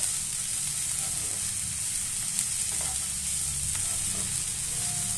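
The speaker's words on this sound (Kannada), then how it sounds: "ಇದೊಂಚೂರು ದಂಟು ಒಂದು ಸ್ವಲ್ಪ ಎಣ್ಣೆ ಒಳಗೆ ಒಂಚೂರು ಡ್ರೈ ರೋಸ್ಟ್ ಮಾಡ್ತಾಯಿದ್ದೀನಿ." Bitter gourd stems dry roast in a pan with a little oil, making a constant, dense close-up sizzle that barely changes and carries a few faint stirring scrapes, with no talking.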